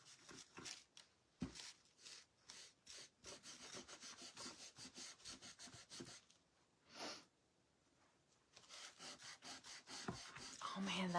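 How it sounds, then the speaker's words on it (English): Stain rubbed onto a wood slice by hand, a series of close, rhythmic scrubbing strokes with short pauses and a brief sniff, fairly quiet. "I'll rub it on the wood slice now."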